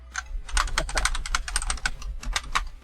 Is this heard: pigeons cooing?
no